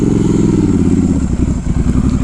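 Triumph Scrambler 1200 XE motorcycle riding off-road, its engine loud and close with a steady throbbing rumble that roughens and pulses slightly toward the end.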